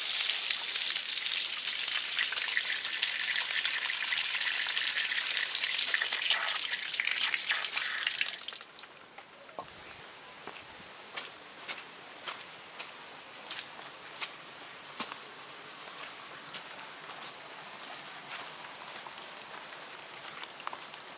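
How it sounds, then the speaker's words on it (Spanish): Water gushes loudly from a washing machine drain outlet for several seconds, then stops abruptly and gives way to a quiet run of irregular drips and trickles. "ese es el desagüe de la lavadora"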